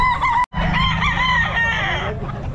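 Close and loud, a nine-month-old Raptor sweater gamefowl rooster at the Bocaue pet market lets out a long crow with wavering pitch, briefly cut by a short gap before it carries on and trails off.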